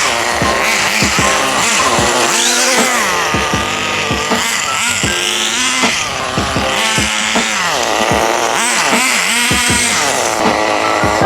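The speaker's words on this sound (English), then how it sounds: "So the RC turned on. I'm gonna run it a little bit, warm it up," An R32 GTR RC car runs loudly and up close while warming up, its motor whining and revving in rapid rising and falling sweeps with no break.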